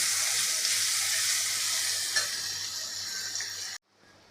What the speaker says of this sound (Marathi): आता कांदा परततोय